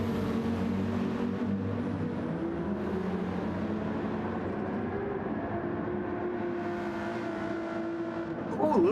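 Race cars from a sim racing game, including a BMW M6 tucked in another car's slipstream, give a steady, loud engine drone with layered tones and a brief rise near the end.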